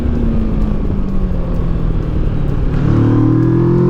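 Kawasaki Versys 650 motorcycle pulling hard in second gear with full luggage cases mounted, a steady close engine drone whose pitch climbs smoothly as revs rise, continuous and loud with no talk.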